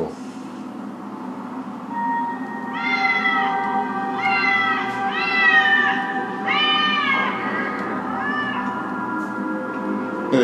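Cats meowing in Batman Arkham City, several drawn-out meows in a row over a steady low background hum, fairly close and clear.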